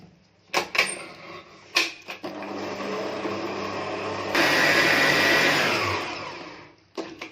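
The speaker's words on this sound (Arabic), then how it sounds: "اخد الزبدة مع السكر واضربهم كويس قوي" An electric mixer beats butter and sugar for coffee biscuits, whirring steadily and close by, with a few brief knocks at the start, a louder stretch midway, and a stop near the end.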